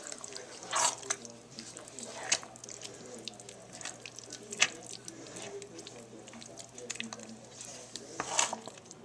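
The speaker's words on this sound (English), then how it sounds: "I'm going to let this simmer for a few minutes so the meat can soak in and all the gravy can mix in with the meat" Meat simmering in gravy for tamales gives off a soft, continuous bubbling and crackling, with scattered small pops and drips at a low, close level.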